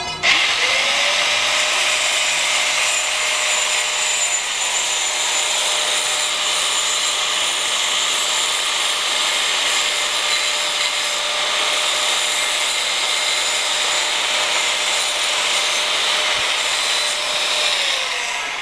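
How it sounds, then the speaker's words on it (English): A power tool grinds down metal pieces with a loud, continuous high-pitched whir and gritty rasp. It runs steadily and close up, with no talk over it. "so he's gonna like grind these up so like Ellen doesn't slit her hands open on"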